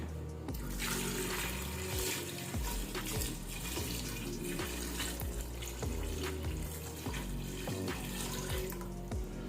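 Water pours steadily into a pressure cooker holding chicken feet with ginger, garlic and bay leaves, a continuous close splashing flow that carries through the whole stretch without pause.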